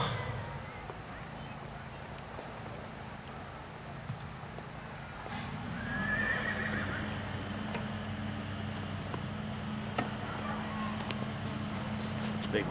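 Soft, steady hoofbeats of a big horse plod along outdoors on a trail course at a county fair, with a brief whinny-like cry partway through and a low rumble underneath.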